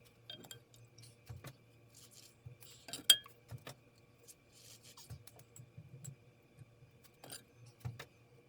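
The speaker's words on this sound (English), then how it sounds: "Tighten the lids down." Lids being tightened on glass quart canning jars of 18% coffee cream: faint, sparse glassy clinks and metallic taps with soft rubbing twists in a quiet room.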